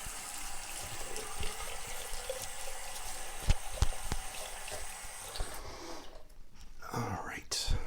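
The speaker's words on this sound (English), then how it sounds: "All right, wet the face." Tap water running and splashing at a sink while the face is wet for a shave, a close, continuous hiss and trickle with a few sharp clicks, then a brief quieter gap and faint splashing at the end.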